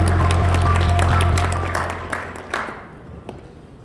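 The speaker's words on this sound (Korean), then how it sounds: "박수 주시기 바랍니다." Applause from a lecture audience at a talk on nuclear power, renewables and carbon neutrality, loud over a low electrical hum at first, then thinning into scattered claps and fading out.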